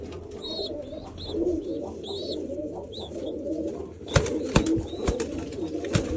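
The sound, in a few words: pigeons cooing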